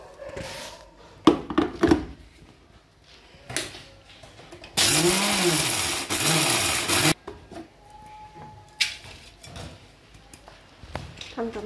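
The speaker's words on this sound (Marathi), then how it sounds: "आता हे मिक्सर मधनं मी बारीक करून घेते थोडं थोडं" A kitchen mixer grinder pulverises roasted, shelled peanuts in two short loud bursts with a whirring, rising and falling motor pitch, between quieter clinks and handling noises.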